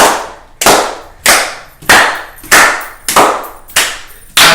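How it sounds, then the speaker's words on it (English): A run of seven loud, close hand claps, each sharp and slightly doubled, struck at an even pace about every two-thirds of a second with quiet between, to sync a recording. "This is gonna be a 10-minute long video of us clapping."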